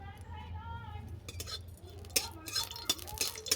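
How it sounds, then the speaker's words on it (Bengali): Dried red chillies fry in mustard oil in a pan while a utensil stirs them, making repeated metallic scrapes and clinks over a faint low hum, with light bursts of activity toward the end. "লঙ্কাটাকে ভালো করে ভেজে নেব।"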